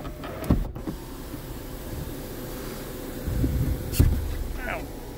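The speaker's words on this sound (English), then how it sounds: "You can see that motor definitely pulls the screw, or the shade back in." Kia Optima sunroof shade motor retracting the shade inside the car, a faint whirring hum with a couple of clicks and thumps, close but quiet.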